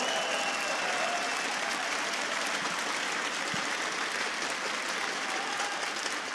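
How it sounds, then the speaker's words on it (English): Sustained audience applause from a Montreal esports crowd at the Rainbow Six Siege Invitational 2018, a dense wash of many hands clapping steadily throughout, with a few faint whoops. "Give yourselves a round of applause, Montreal."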